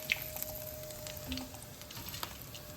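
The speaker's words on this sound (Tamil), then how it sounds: "இந்த கலரில் எல்லா சிக்கனையும் நம்ம பொரிச்சு எடுத்துக்க போகிறோம்" Chicken pieces frying in hot oil, a quiet steady sizzle with faint crackles and a light tap or two, no voices.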